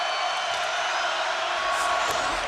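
A basketball arena crowd at a Michigan college game, a steady roar of many voices with a commentator talking over it.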